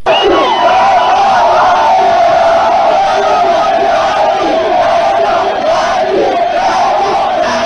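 A huge crowd roars and cheers continuously at a Félix Tshisekedi campaign rally at Place Kermesse in Gemena, loud and dense with shouts and whoops rising over a steady sustained din.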